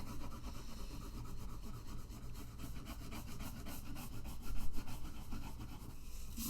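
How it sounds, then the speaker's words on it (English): Crayon drawn lightly across paper, a soft, steady scratchy rubbing with quick back-and-forth strokes, close but quiet, with a slightly firmer pass just past the midpoint. "If you go too heavily with your crayon, or if you draw too heavily with your crayon, you won't be able to blend"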